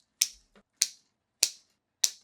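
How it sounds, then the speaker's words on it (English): Wire cutters snip through taped 18 gauge floral wire on a tatami circle bouquet holder, making four crisp, evenly spaced clicks with a faint tick between the first two, close and isolated. "And then I'm going to snip off these wire."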